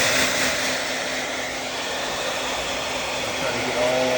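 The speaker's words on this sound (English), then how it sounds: "Final drying step is I take a hair dryer." A hair dryer blows steadily at close range over a screen coated with wet screen-printing emulsion, giving a continuous, even whirring roar with no pauses.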